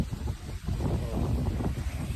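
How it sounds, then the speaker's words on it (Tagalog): Strong wind in Morong, Bataan, roaring and buffeting the microphone in a low, rumbling rush, steady throughout with no voices. "Nakita nyo ba yung hangin kung gaano malakas?"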